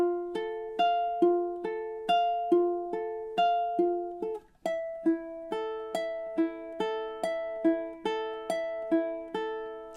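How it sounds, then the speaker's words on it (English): A ukulele plays measures 10 and 11 of The Last of Us main theme: a steady run of clear, close plucked notes, each ringing and decaying before the next, with a brief shift partway through and no voices. "And 10 and 11 should sound something like this."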